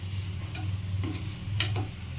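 A spoon works ginger garlic paste around a cooking pan for chicken masala, giving a few soft, sparse scrapes and taps over a low steady hum.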